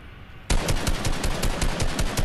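Rapid automatic weapon fire in the video game Fortnite starts abruptly after a brief lull and continues as a loud, evenly spaced stream of shots, with no talk over it.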